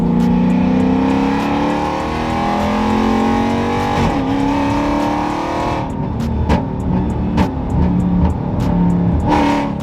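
A powerful supercharged car engine revs hard and loud, pitch climbing and falling through several pulls, with sharp bursts near the end.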